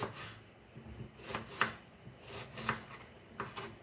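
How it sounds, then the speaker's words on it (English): A knife slices an onion on a cutting board in a home kitchen with a series of soft, crisp cuts in an uneven rhythm. The cuts are close but quiet, and no one talks. "now I'm gonna slice my onion."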